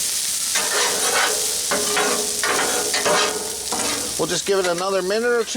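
Potatoes, sausage, bacon, ham and peppers sizzle loudly and steadily on a Blackstone griddle, with scraping stirs of a spatula through the hiss while someone talks over it near the end.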